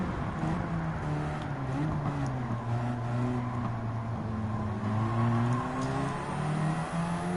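Racing car engine in Gran Turismo 7, a Nissan Silvia in a wheel-to-wheel race, holding a steady, loud drone whose pitch climbs and dips with gear changes, continuous for the whole stretch without talk.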